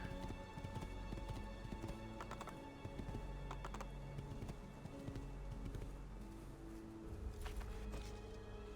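Horse hooves clip-clop in a steady trot in Assassin's Creed II Remastered, with a brief whinny and game ambience behind, fairly close and prominent.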